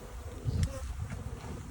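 Honeybees buzzing in an opened hive as the boxes are separated, a close, steady droning hum with a few louder passes and no talk.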